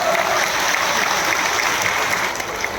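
Crowd applause at a political rally with the chief minister in Dindori, a dense, steady wash of clapping that holds loud and even throughout with little variation.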